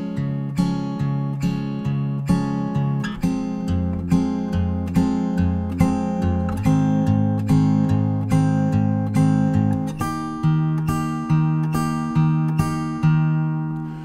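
Fingerpicked guitar pattern for a song, steady arpeggiated notes over bass tones rolling through chord changes, clear and close with no talk.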